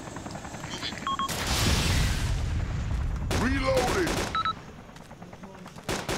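Gunfire erupts in a forest assault in the Arma 2 video game, dense bursts of rapid shots and heavy booming rumble building over a few seconds, with distant whistling tones and a helicopter-like drone behind.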